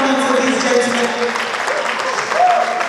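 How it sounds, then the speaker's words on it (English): Audience at an Africa Day 2018 event applauds steadily for government officials, a dense, continuous round of clapping that lasts throughout. "Please keep clapping for these gentlemen."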